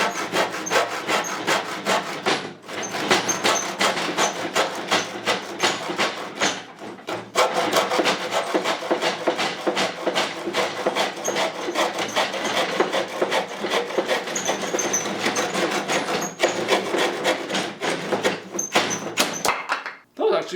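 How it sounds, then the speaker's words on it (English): A Gerber hand saw with coarse teeth cuts through a 2x4 wood board in fast, steady back-and-forth rasping strokes, close and loud, with a couple of brief pauses. "This Gerber saw actually works way better than I anticipated."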